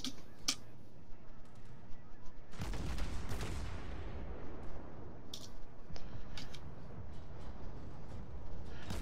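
Naval guns firing at the battleship New York in a wargame, with sharp gun reports early on and a heavy booming salvo that rumbles and decays, followed by scattered lighter shots.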